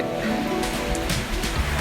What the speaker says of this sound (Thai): วันนี้ฝนตกมา